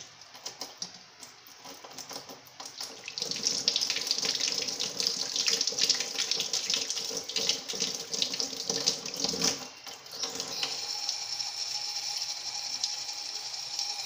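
Eggs being washed by hand under a running kitchen tap, with a steady rush of water splashing into a sink, louder through the middle stretch and continuing alone without talk.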